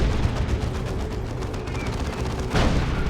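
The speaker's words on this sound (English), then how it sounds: "Whirlwind shots coming in from downtown." Whirlwind artillery in Dawn of War 2, a Space Marines versus Chaos Space Marines match, heard as a dense barrage of rapid overlapping booms and impacts over a steady battle rumble, with a louder blast near the end.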